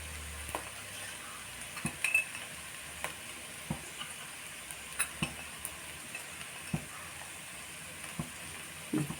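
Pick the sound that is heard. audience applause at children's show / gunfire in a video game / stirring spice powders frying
stirring spice powders frying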